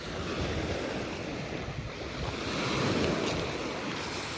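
Sea surf washes continuously against the shore at Yeysk on a sunny July morning, a broad hiss of breaking waves mixed with wind buffeting the microphone, gradually swelling louder toward the end.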